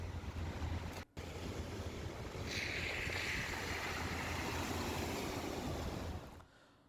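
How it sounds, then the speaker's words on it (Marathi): High-tide sea waves wash onto Mumbai's coastal road as a continuous, loud rush of surf and water with rumbling wind noise, briefly cut out near the start and fading at the end. "मुंबईच्या कोस्टल रोडवरती समुद्राचं पाणी आलेलं आहे हायटाईडमुळे"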